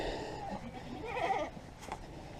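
A billy goat bleating in an old goat pasture, one quavering call of moderate loudness at a short distance, followed by quiet farm ambience with no talk.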